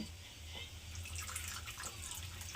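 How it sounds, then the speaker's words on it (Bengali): Small splash of water poured into a bowl of cornflour while preparing chilli egg, a soft trickling run lasting a couple of seconds, close and fairly quiet over a low steady background hum. "একটু কর্নফ্লাওয়ার এর মধ্যে একটু জল দিয়ে দেব"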